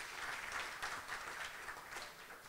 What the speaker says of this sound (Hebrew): מגיע למחיאות כפיים וגם לה